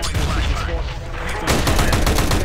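Rapid gunfire during a competitive Counter-Strike match, loud bursts of shots in quick succession, with a voice talking over part of it.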